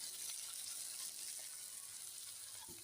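Fish sizzling in hot oil in a pan, a steady faint hiss of frying throughout, with a brief low clatter near the end.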